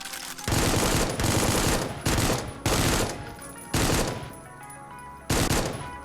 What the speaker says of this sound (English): Dudes that are still trying to shoot at me